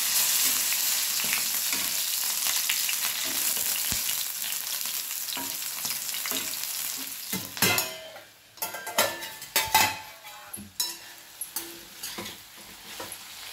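Green chillies fry in a little oil in a pan, a steady close sizzle at first, then broken by louder irregular crackles and spattering bursts as they are stirred.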